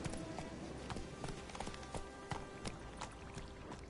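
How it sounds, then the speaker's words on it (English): Horse hooves clip-clopping in The Witcher 3 video game, a quick, steady run of close hoof strikes with faint splashy, trickling texture under them and no speech. "Whoa there, Roach."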